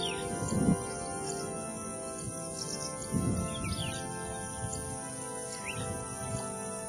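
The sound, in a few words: rufous-tailed lark (finch lark) singing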